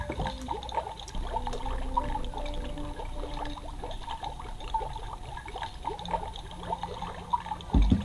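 Water poured from a beaker into a plastic toy creature-making chamber, a steady trickling, splashing pour running continuously and close by, with no talking.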